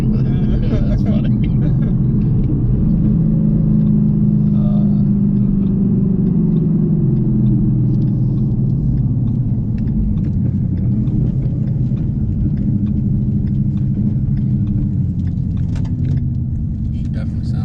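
A loud, steady low engine rumble from an 830 HP Mustang with a one-piece aluminum driveshaft, heard from inside while cruising through Mexico, droning continuously beneath people talking in the cabin.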